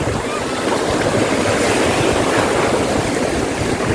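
Strong ocean waves wash in at Ivisan Beach Resort in Roxas City, Capiz, as a loud, continuous surf roar with wind buffeting the nearby microphone.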